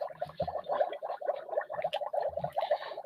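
A Magic Mixies toy cauldron filled with magic liquid bubbles and gurgles in a steady, busy burble, close by and fairly loud throughout.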